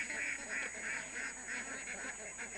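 Ducks kept in an outdoor pen behind a backyard pest-control spot quack and honk in a steady repeating chatter at middle distance, with a constant high background tone.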